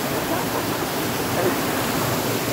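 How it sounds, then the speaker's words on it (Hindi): The Siang River flowing, a steady broadband rush of moving water that stays loud and even from start to finish, with no voices over it. "दोस्तों पानी हम पहुंच गए सियांग रिवर पे।"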